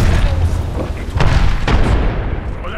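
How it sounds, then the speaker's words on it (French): Booming grenade blasts sound in a multiplayer video game, with two sharp, loud explosions followed by rumbling amid ongoing game noise. "J'envoie une grosse grenade."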